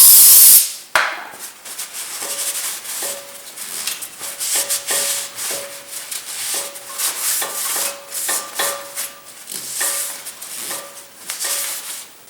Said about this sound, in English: Use brake cleaner to clean the cavity.